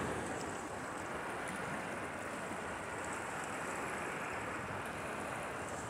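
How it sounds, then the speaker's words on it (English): River water rushing and crashing over rocks on the upper Potomac in winter, a steady broadband roar that stays constant throughout, heard outdoors with no talking. "this water is still crashing those rocks."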